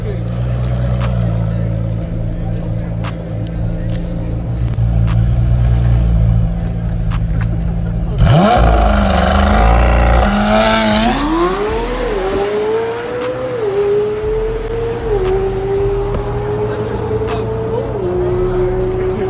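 A twin-turbo family car launches in a street race against a Camaro, its engine roaring loudly and revving up through rising gears after an idle rumble, with people talking and shouting over it.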